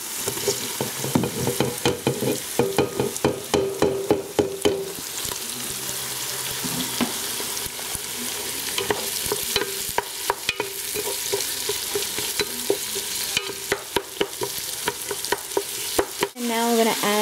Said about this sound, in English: the steak is all chopped up, so I'm going to add that first,